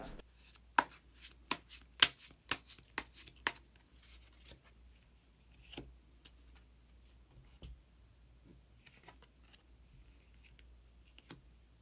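Tarot cards are drawn and handled in quick crisp snaps and slaps, a dense burst of sharp card clicks over the first few seconds, then sparse scattered taps and flicks in a quiet room with no talking.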